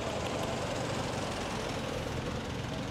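Jeep and motorcycle engines rumble steadily through street traffic, a dense continuous drone that stays loud and unbroken for the whole stretch with no voices.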